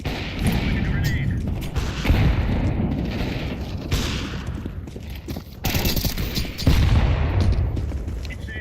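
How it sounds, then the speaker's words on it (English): Video game firefight with a thrown grenade, dense bursts of loud gunfire and heavy booming blasts rolling over each other without pause, several strong detonations standing out, a voice talking over the din. "Throwing a grenade."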